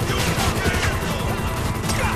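Gunfire in GTA 5, a dense run of sharp shots and crashing impacts packed closely together, loud and continuous over a busy game background.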